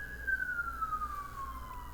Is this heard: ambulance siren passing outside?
yes